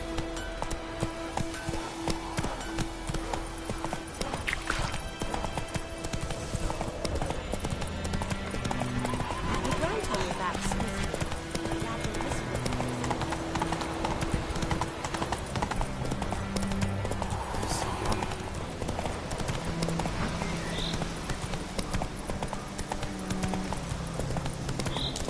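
Horse hooves clip-clop in steady rhythm throughout Witcher 3 gameplay as the mount trots along, with an occasional whinny, background game music and a voice speaking over the top.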